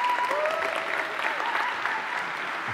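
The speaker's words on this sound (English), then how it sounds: "Give them a big round of applause." Audience applause greets two guests, Kate Norman and Faye Mayo, as they come onto a stage at an arts and stories event, a steady dense clapping that holds at an even level throughout.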